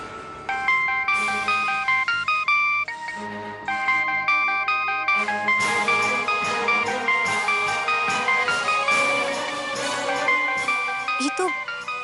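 A phone ringtone plays on speakerphone in a home scene from a Hindi TV serial, a loud, steady electronic melody of repeating tones that runs continuously for about twelve seconds.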